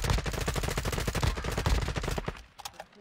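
Video game gunfire comes as a rapid run of loud, sharp shots in quick automatic bursts, then breaks off into a few scattered clicks.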